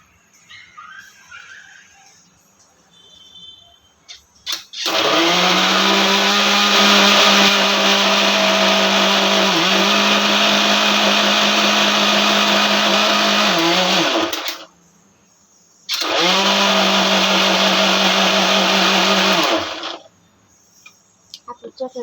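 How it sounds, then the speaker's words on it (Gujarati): Kitchen mixer grinder whirring through chutney with a little added water, a loud steady high-pitched motor whine that runs about ten seconds, stops briefly, then starts again for a second burst before cutting off. "હવે મિક્સર કરી ચાલુ."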